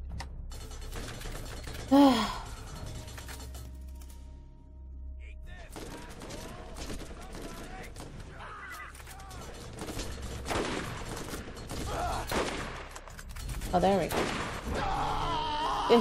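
In Borderlands, an enemy machine gunner fires in rattling bursts across a chaotic fight, mixed with other game effects, while players talk and laugh over it.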